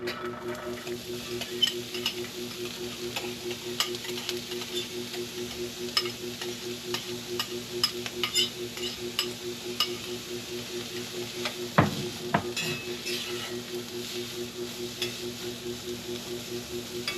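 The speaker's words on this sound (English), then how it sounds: "Get that all kind of mixed up with the oil. We're gonna let this saute for a few minutes" Half an onion and two celery sticks sauteing in oil in a home kitchen produce a soft, steady sizzle with scattered crackles and a brief stir or scrape midway, quiet and without speech.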